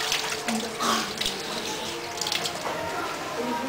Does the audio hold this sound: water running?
yes